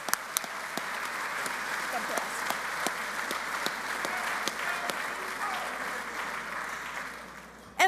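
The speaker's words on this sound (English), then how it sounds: "One more round of applause" An audience applauds steadily and fairly loudly throughout at a Labor Day breakfast, with a voice speaking briefly over the clapping.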